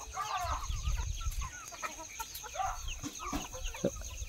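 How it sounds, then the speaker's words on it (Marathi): Free-range country chickens cluck in scattered bursts around a farmyard, with young birds among them and background chatter and outdoor noise throughout. "त्या कोंबड्या अंडे देतात सुद्धा"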